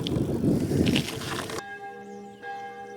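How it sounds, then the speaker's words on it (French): Church bells ring out in a French town street, a sustained, resonant peal with steady overlapping tones that follows a burst of louder broadband street noise, the bells holding on alone near the end. "on attend que les cloches sonnent"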